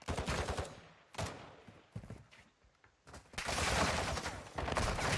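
Loud automatic gunfire in Call of Duty Warzone 2 DMZ, with shots coming through a brick wall, lands in a few close, dense bursts separated by short quieter gaps.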